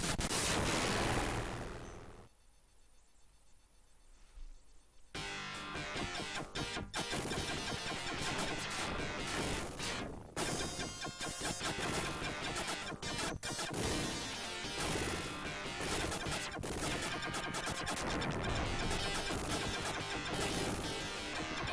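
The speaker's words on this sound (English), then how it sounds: "the Mega Drive sound chip makes a really satisfying explosion type noise" Explosions from the Mega Drive version of the arcade shooter Flying Shark, produced by the console's sound chip: a dense, loud barrage of crunchy synthesized blasts and gunfire over game music, after a brief quieter pause near the start.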